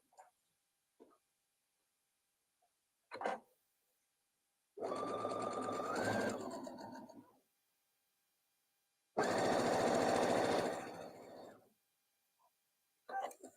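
Stitching the back piece of a memory teddy bear, a sewing machine makes two separate runs of a couple of seconds each. It sounds close and clear, with faint small clicks and handling noises in the quiet gaps between the runs.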